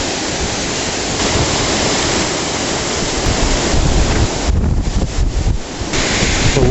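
Loud, constant roar of wind and rushing storm-surge water from Superstorm Sandy pushing up a road, a dense broadband wash with gusts buffeting the microphone and no voices.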